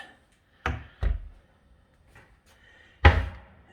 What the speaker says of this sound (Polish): Szuflady wewnętrzne.